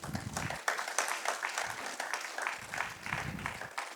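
A church congregation claps and applauds in bursts, fairly faint and distant, with a few voices mixed in.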